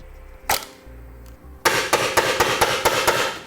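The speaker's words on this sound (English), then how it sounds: "you can get it the rest of the way with a hammer" A hammer beating a bent section of a 2010 Honda CR-V bumper flat, one sharp blow, a pause with a low mechanical hum, then a fast run of about eight metallic strikes, loud and close.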